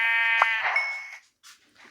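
A Minecraft sheep lets out a single wavering, nasal bleat, loud and close, with a couple of faint, soft game sounds trailing after it.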